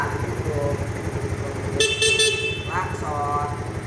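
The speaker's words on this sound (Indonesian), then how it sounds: "klakson ya" A vehicle horn is tested with a short bright blast partway through and a brief second toot just after it, both over a running motor and a voice talking.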